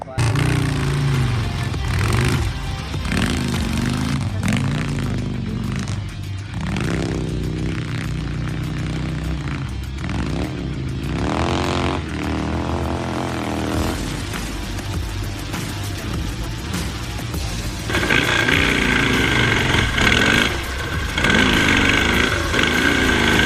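A big Harley motorcycle engine roars and revs loudly at a hill climb, steady and close throughout with pitch rising and falling, then surging harder near the end.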